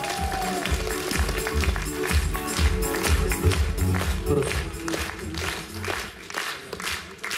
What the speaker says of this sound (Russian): Встречаем бриллиантов. Бурными аплодисментами